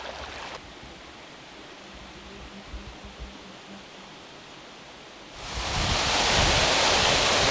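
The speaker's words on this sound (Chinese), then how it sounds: "这有一个瀑布，小瀑布" A small mountain waterfall near a village water source: quiet outdoor ambience at first, then a loud, close rush of falling water bursts in and continues steadily.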